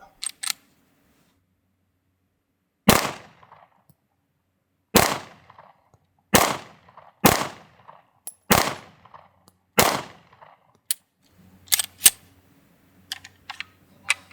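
Gunshots fired outdoors during a camping trip in Utah, a series of sharp, loud, separate reports spaced a second or two apart, each with a brief decaying tail, with faint background sounds between them.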